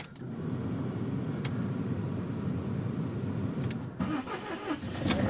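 A van's engine cranking and catching on a cold, foggy morning, a steady low mechanical rumble running near and continuous, with a few sharp clicks and a brief rise near the end.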